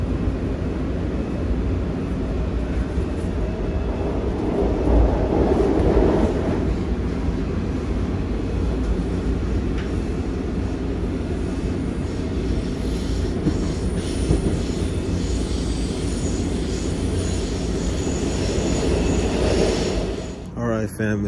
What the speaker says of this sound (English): my second time riding metro in DC.